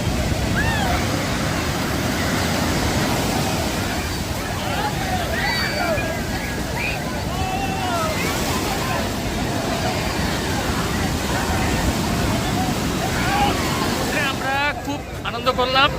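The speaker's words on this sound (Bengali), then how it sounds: "আর বড় বড় একটা ঢেউ আসছিল" Big sea waves surge and crash on Puri beach in a continuous, loud wash of surf, with distant crowd chatter and voices mixed into the roar throughout.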